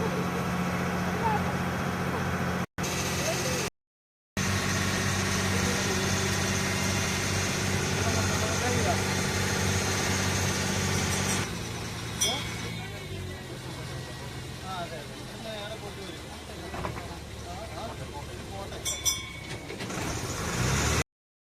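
A boat's engine on the Alleppey backwaters droning steadily and loud at close range, briefly cut off, then the tone drops to a lower rumble, with people talking over it.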